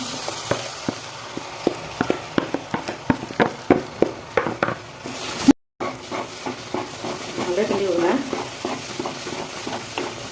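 Ground moong dal going into a hot pan for Ashoka halwa and being stirred, a rhythmic series of spoon scrapes and knocks over a soft sizzle, with a short break midway and some quiet clatter afterward.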